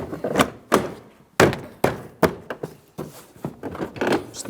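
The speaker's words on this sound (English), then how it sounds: "We'll align all of our locking tabs and press the panel towards the door itself." Door panel of a 2015-2025 Ford Transit 250 pressed onto the door, a series of close, sharp thunks and clicks as locking tabs seat, irregularly spaced, no talk.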